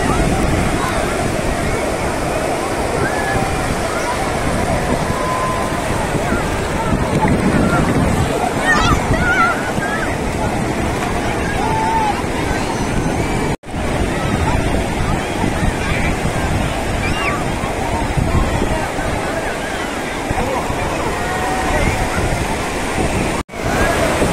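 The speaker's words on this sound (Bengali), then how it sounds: "এত ঢেউ, এত ঢেউ," Steady roar of sea surf rolling onto the beach at Puri, continuous and fairly loud, with wind buffeting the microphone and faint voices now and then.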